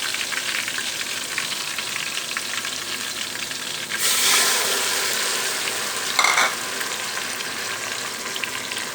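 Ginger garlic paste and tomato paste fry in a pan, a continuous crackling sizzle that swells louder midway as the mixture is stirred, with a brief scraping burst near the end.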